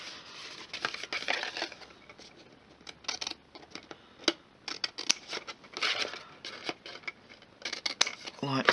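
Paper being cut at an angle with scissors during a stamping craft project, with repeated close snips, paper rustling and handling clatter spread unevenly throughout.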